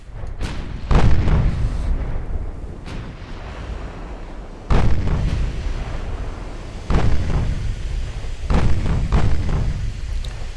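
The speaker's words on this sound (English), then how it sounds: "Is my rear turret firing? Yes, she is." Warship turret guns fire in a naval battle game, several deep booming shots spaced a few seconds apart, each followed by a rolling low rumble over a constant loud background.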